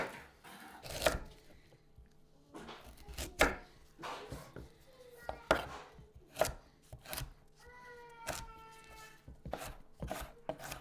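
A knife slices freshly harvested garden vegetables on a cutting board, giving close, crisp chops that come at an irregular pace with short pauses between cuts, and no talking.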